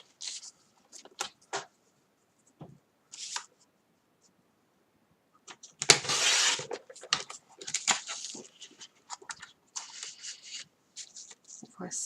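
Paper is cut to width for a handmade album, heard as crisp, papery scraping and snipping bursts with quiet gaps between them; a longer, louder rasp comes partway through, followed by scattered small rustles.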